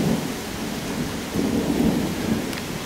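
Steady rain pouring in a jungle with low rumbling thunder rolling through, dense and close, with no voices.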